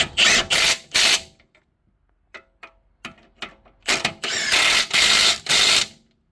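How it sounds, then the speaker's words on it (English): A hand ratchet tightens the bolts on the front wheel hub of an Infiniti G37/G35 RWD during a wheel bearing replacement, delivering loud bursts of rapid clicking strokes separated by brief pauses and small metallic taps. "Now we're tightening the bolts."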